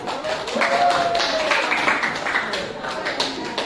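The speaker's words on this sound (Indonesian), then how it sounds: "Tepuk tangan." A classroom of students claps hands in a brief, fairly dense burst, with children's voices talking over it throughout.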